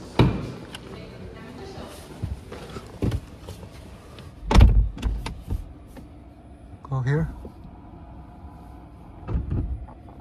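The power front trunk of a Lucid Air Grand Touring Performance sedan closes, with a motorized whir and a few thuds and clunks spread across the moment, while a person speaks intermittently nearby.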